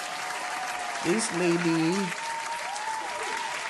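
Steady applause runs throughout, with a voice speaking briefly over it in the middle.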